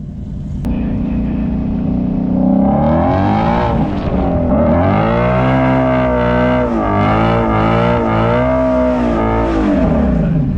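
Drag racing car at the Freedom Factory during a spectator drag championship, engine idling then revving hard with rising and falling pitch as it launches, loud and close with no talk over it.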